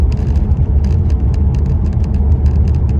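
Steady road noise of a car driving, heard from inside: a loud continuous low rumble with light rattles and ticks over it, no speech.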